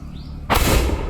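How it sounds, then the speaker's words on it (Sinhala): A bamboo cannon, fired with heated kerosene for a New Year celebration, lets off a single sudden loud blast that booms and rumbles briefly after a quiet start. "උණ වෙඩිල්ල ගෙනාවා මෙතෙත්."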